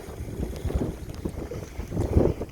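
Gusty wind blows across open water on a fishing trip in the Eastern Washington scablands, a continuous rough rumble and buffeting against the microphone, loud and close, with surges toward the end.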